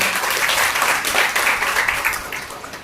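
A crowd claps steadily for a few seconds, dense applause that holds level and then tapers slightly toward the end.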